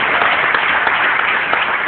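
Church congregation applause during a sermon, a dense, loud burst of clapping filling the short moment without speech.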